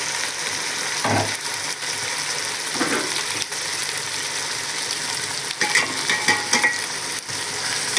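Country tomatoes stirred and frying in a pan over low flame, a steady sizzle with scraping utensil strokes against the metal throughout, close and fairly loud.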